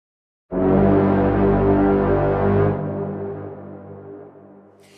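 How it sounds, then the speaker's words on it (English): A sustained, dark detuned synth tone starts abruptly, holds, then softens into a trailing echo tail that slowly fades. "If I send a little bit more to the delay, you get a more exaggerated effect."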